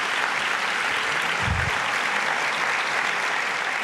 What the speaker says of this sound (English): Yes, please give them a round of applause.